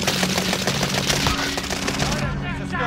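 Automatic weapon fire in the shooter Call of Duty: Warzone, a loud run of rapid shots that keeps going for almost three seconds, close and dense, with a voice faintly underneath.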